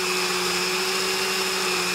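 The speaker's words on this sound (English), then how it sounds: "Come back over here to our blender" A kitchen blender runs steadily while blending thick wheat berry pancake batter, a constant close motor whine with a strong steady hum and no pauses.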